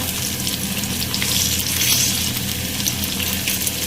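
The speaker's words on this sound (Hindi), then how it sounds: "और प्याज के साथ साथ हमें चिकन को भी फ्राई करना है इस ऑयल में" Small boneless chicken pieces frying with onions in hot oil for a street-style kata kat dish, giving a steady, close, crackling sizzle with faint stirring and no talk.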